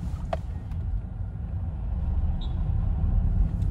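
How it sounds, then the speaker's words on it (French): A manual transmission car drives along, its engine rumbling steadily from inside the cabin with a low road hum that swells slightly as it goes, plus a couple of brief clicks. "Pour la première fois, je conduis une voiture manuelle."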